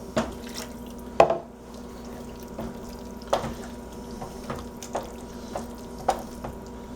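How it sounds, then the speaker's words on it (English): Water is added to hamburger chow mein gravy in a pan, heard as sparse, irregular drips and splashes over a faint steady hum, with no talking. "I'm going to add a little more water."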